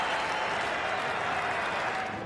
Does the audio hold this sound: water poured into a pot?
no